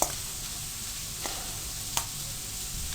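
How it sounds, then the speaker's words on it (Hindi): Carrots fry in olive oil in a pan with a steady close sizzle. A few soft scraping knocks from stirring break through it, and no one speaks. "आप गाजर फ्राई होगी 2 मिनट में"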